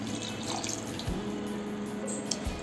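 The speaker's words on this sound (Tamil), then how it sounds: "இதில் கொஞ்சம் தண்ணி சேர்த்துக்கணும்" Water is poured into curd rice made with three packets of curd in a home kitchen, giving a steady close trickle and dripping with a low hum throughout and no speech.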